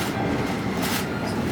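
A KTX high-speed train running on the Jungbu Naeryuk line, heard as a continuous rolling rumble and rush from inside or near the cars, steady and fairly loud with no voices.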